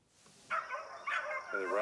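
Hound dogs bay and bark in short bursts while trailing a rabbit outdoors, with several loud yelps close together and a drawn-out whine at the end.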